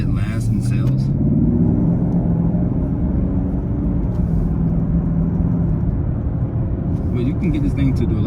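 A 2020 Chevy Camaro 1SS with a V8 rumbles loudly and steadily up close, a deep continuous exhaust drone with a few faint crackles near the end.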